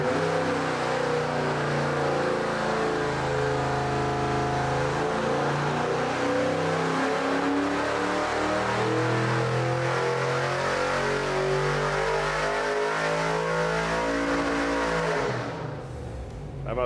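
A junkyard LS 5.3 V8 fitted with a cam, in a 1968 C10 build, roars loudly through a full dyno pull, pitch climbing steadily toward the rev limiter before dropping off at the end.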